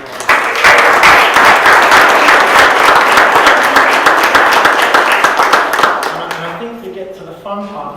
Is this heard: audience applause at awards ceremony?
yes